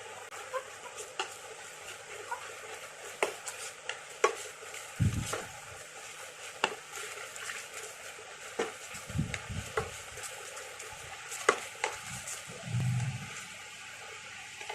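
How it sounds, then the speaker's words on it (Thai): An oyster sauce mixture simmers with a soft sizzle in a pan while a utensil stirs it, scraping and clinking against the metal in irregular strokes, close and fairly quiet. "เราก็จะคนให้มันเคี่ยวสักนิดนึง"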